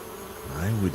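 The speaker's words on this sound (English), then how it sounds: "Those bees don't look very peaceful to me." Bees buzz briefly around a large nest in a point-and-click adventure game, a short close drone that rises in pitch.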